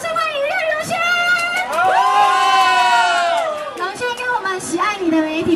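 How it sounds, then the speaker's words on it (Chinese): A crowd of fans, many sounding young, cheers and shrieks with high sustained squeals to welcome Ren Rongxuan at a SOGO store event. The noise is loud, dense and continuous, swelling in the middle and then settling. "掌声欢迎任容萱"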